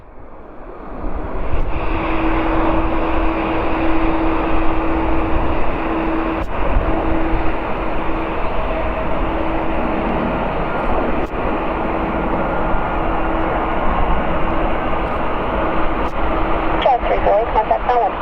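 An Air France Boeing 777-228ER jet lands at Vancouver Airport, a loud sustained engine roar and whine with a steady tonal hum, heard from nearby over a continuous broad rush.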